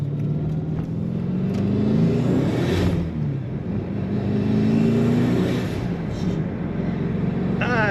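A yellow 2012 Dodge Challenger SRT8 with a twin-turbo 1000 hp engine and a six-speed manual pulls hard, its loud exhaust rumble rising in pitch through the rev range, dipping briefly at a shift, then climbing again.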